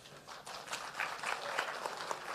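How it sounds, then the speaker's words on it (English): Audience applause fills a hall at a provincial stakeholder dialogue on an HIV survey, a steady, dense patter of many hands clapping at moderate volume for the whole stretch. "Another round of applause."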